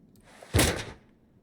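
A door in the tactical shooter game Ready or Not is kicked or forced, a single heavy thud-like impact with a short rumbling decay, loud and close with no talking.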